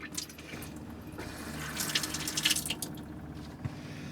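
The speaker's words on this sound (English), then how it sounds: "hot and cold mixer taps" A hot and cold mixer tap runs in the small kitchen of an Autosleeper Duetto camper motorhome, a soft steady stream of water close by, swelling briefly in the middle before easing off, with no talking.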